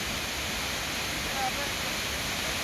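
Dabhosa waterfall in Jawhar, Maharashtra, gives off a constant, full roar of rushing water, steady and unbroken, like close-up falling water with no clear breaks.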